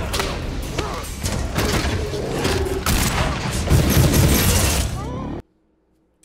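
Gunfire from a TV drama set in the Fallout world, a dense chaotic barrage of booms, thuds and cracks mixed with shouting and score, loud throughout before cutting abruptly to near silence.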